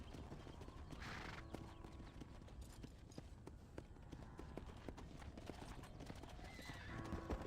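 Horse hooves clip-clop steadily on the ground in Red Dead Redemption, with an occasional whinny, faint and distant under a low ambient bed, no talking.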